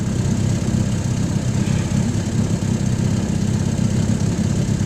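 A 1953 Firestone antique outboard motor runs steadily at a near idle, giving a continuous low rumbling drone that stays loud and even and has no pauses.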